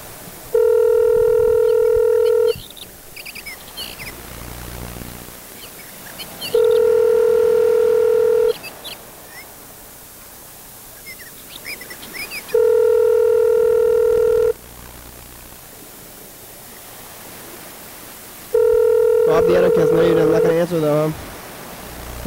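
A telephone line sounds four steady, loud tone bursts of about two seconds each, spaced by pauses, with a short flurry of keypad tones near the end.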